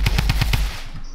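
Rapid burst of about five gunshots from an automatic weapon in the video game Fortnite, loud and close, with the shots evenly spaced before cutting to a quieter tail.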